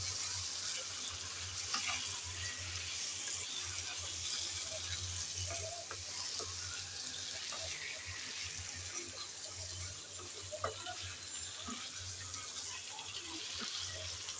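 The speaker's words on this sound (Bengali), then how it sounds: "ঘিলা দেওয়ার পর ভালোভাবে নেড়ে চেড়ে কষিয়ে নেব আলুর সাথে।" Chicken brain sizzles and fries with potatoes in a pan while being stirred, a steady close crackle running throughout with scattered clinks and scrapes of the spoon and a low background hum.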